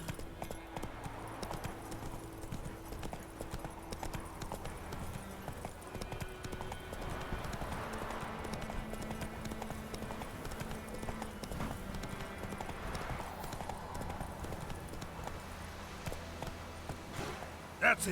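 Game horse hooves in The Witcher 3 clip-clop steadily at a trot or gallop for the whole stretch, moderately loud under faint background music, with someone speaking briefly.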